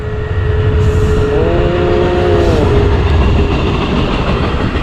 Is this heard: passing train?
yes